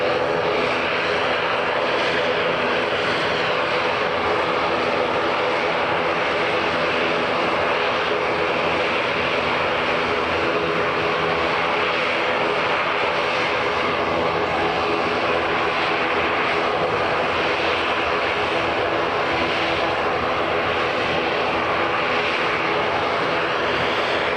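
A JetBlue Airbus A321neo taxis toward the runway at Edinburgh Airport, its engines giving a steady, loud, continuous roar and whine that holds level for the whole stretch without a voice over it.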